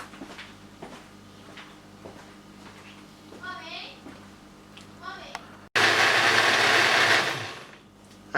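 A blender whirs loudly for about two seconds, blending boiled ingredients for a Nigerian fried fish stew, then winds down. Clinks and mechanical clicks from handling the kitchen gear come before it.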